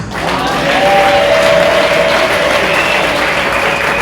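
Sustained applause from a ceremony audience honoring a small group of fathers at a spiritual alliance consecration, a loud, dense clapping crowd holding steady for the full stretch with a faint tone ringing through it.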